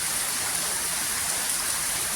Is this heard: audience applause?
no